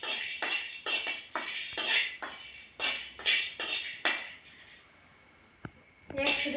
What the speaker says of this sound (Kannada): ಚೆನ್ನಾಗಿ ಹುರ್ಕೋಬೇಕು.